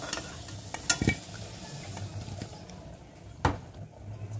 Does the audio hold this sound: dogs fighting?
no